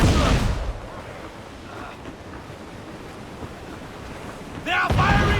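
Ship cannons fire in a naval battle in Assassin's Creed 4: Black Flag, a loud blast at the start fading into a rushing wash of sea and wind before another burst and a shouted voice at the end.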